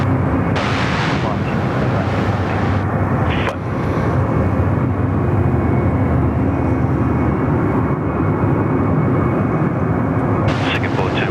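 Singapore 212 airliner taking off from runway 34 left at Sydney Airport, a loud, steady broadband jet roar filling the whole clip with only a brief dip partway through.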